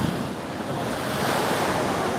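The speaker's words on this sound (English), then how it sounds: "Can you hear the waves in the background?" Ocean surf in Hawaii breaks against the shore as a steady, loud wash of broadband noise with wind buffeting the microphone, continuous over the whole stretch with no voices.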